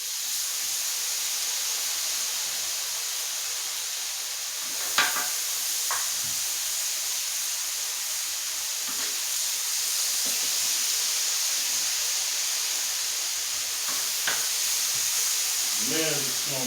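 A pan of food frying in garlic and herb butter, a steady close sizzle and hiss running throughout, with a few brief clinks and stirring sounds.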